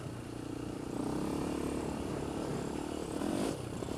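Polaris Outlaw 525 ATV engine droning steadily while being ridden in second gear, a raspy two-stroke-like buzz that rises slightly midway and holds, fairly close.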